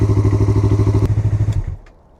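A Yamaha MT-03 motorcycle engine runs in a steady, rapid thumping idle close by, then cuts off and fades out within about two seconds.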